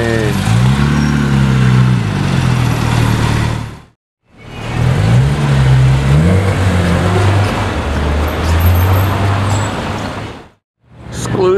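Porsche Carrera GT V10 engines scream past at a Porsche gathering, two loud revving passes rising and falling in pitch, split by a brief silent cut.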